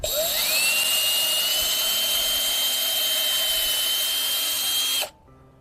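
A power drill with a larger bit whines loudly and steadily at high speed for about five seconds, its pitch rising as it spins up, then cuts off abruptly.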